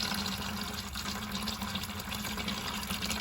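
Oil draining from the rear axle of a diesel mega truck, a steady continuous pouring trickle of liquid at close range, alone and without pause.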